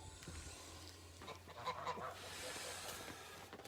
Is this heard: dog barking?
no